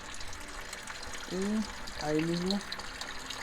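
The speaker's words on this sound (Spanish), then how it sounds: "deberá empezar a salir el agua como si fuera una llave" Coolant water runs out of the opened radiator drain plug on a Ford Ranger FX4, a steady close trickle and splash under someone speaking in two short bursts.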